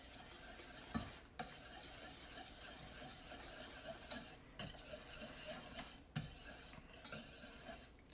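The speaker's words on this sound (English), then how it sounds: "Just going to continue to whisk that around a little bit." Garlic being whisked in a pan for Alfredo sauce, a steady metallic stirring scrape with soft sizzling underneath, broken by a few sharper clanks of the whisk against the pan.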